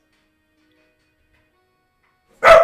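A single sharp bark from an angry dog bursts out at the very end after near-total silence, close and loud but brief.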